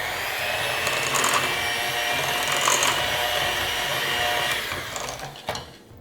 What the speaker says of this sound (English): And then 2 large eggs. And then give this a good mix.